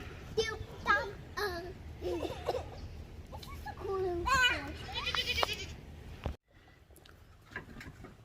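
Goats bleat near a group of children outdoors, several short calls mixed with kids' chatter and voices, fairly close, before the sound cuts abruptly to quieter background.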